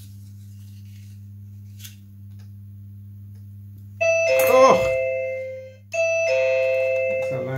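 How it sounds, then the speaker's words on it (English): A loud electronic doorbell chimes twice in a home workshop during a model motor glider build, each two-tone ding-dong ringing out clearly over a steady low hum, with a brief exclamation from a person in between. "That's a loud doorbell."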